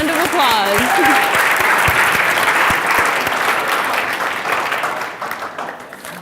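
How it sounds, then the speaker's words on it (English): Loud applause from an audience for stage volunteers, a dense wash of clapping that runs steadily for about six seconds before thinning toward the end, with a few voices mixed in at the start. "Please give our brave volunteers a round of applause."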